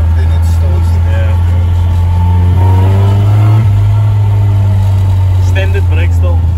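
Turbocharged stock engine in a Nissan 1400 Champ bakkie revs up and drops back, a loud steady drone with rising and falling tone throughout, close by while people talk over it.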